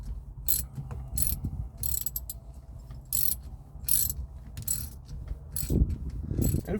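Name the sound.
socket wrench tightening steering wheel knob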